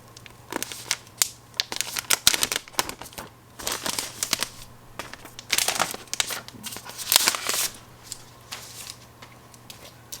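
Packaging for the accessories of a green M1 iMac being opened, a busy run of close crinkling, tearing and rustling bursts of paper and plastic, fairly loud, with no voices.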